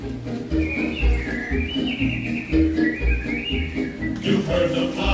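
Animatronic birds chirp and whistle in Walt Disney's Enchanted Tiki Room at Walt Disney World, with quick warbling calls layered over rhythmic show music and drums at moderate volume.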